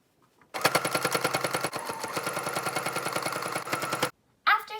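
Sewing machine stitching along the bottom edge of fabric for a children's 3D face mask, a loud rapid mechanical run of even stitches lasting several seconds, then stopping.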